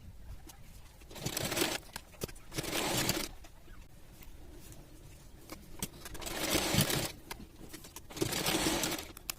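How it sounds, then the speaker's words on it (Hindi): Sewing machine stitching the shoulder seams of a net kurti, running in several bursts of rapid mechanical whirring, each lasting a second or two, separated by quiet pauses, close and moderately loud. "बैक और फ्रंट वाले के दोनों को शोल्डर को हम अटैच कर देंगे सिलाई लगा के"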